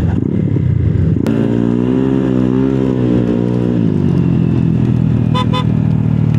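A motorcycle engine runs loud and close, idling roughly before a sharp rise in pitch as it revs, then settling back to a steady hum.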